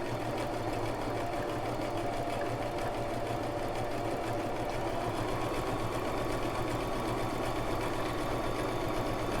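A Brother LX3817 sewing machine backstitches on a utility stitch, running as a steady, continuous whirring hum with fast needle rhythm, close and unbroken, with no talk over it.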